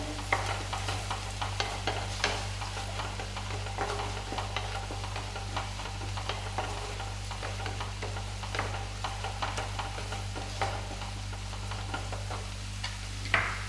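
Soft, steady sizzling of curry paste in a pan with irregular scraping and stirring clicks throughout, fairly quiet with a low background hum.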